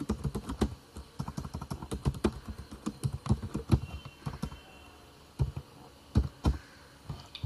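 Rapid, uneven clicking of keys on a computer keyboard, close and fairly crisp, in bursts with short pauses between strokes.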